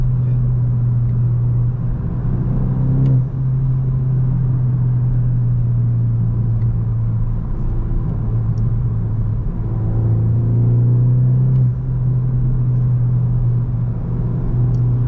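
A VW GTI 300 HP car engine drones steadily at close range, with a low rumble and faint rising harmonics as it revs, plus a few sharp exhaust pops.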